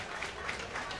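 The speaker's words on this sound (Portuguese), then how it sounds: "a torcida está apoiando, está aplaudindo, dando uma força para ele" Crowd applauding at a professional footvolley final on a sand court: steady, dense clapping from many spectators, fairly distant and even, lasting the whole second.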